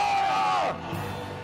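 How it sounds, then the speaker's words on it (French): A church congregation lets out a loud collective shout of joy during a worship service, rising whoops and yells that end abruptly and fall to a lower crowd murmur. "Des cris de joie à la gloire du roi des rois."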